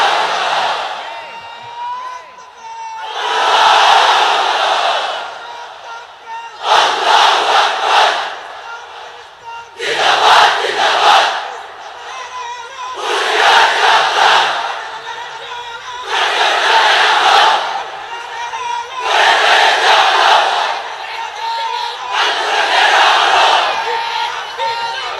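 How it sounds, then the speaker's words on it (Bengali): A large crowd under a pandal roars the takbir chant, Allahu Akbar, in repeated loud bursts of about two seconds, eight of them in a steady rhythm, with short pauses between each shout. "এক একটা তাকবীরে যাতে এই প্যান্ডেল কেঁপে ওঠে"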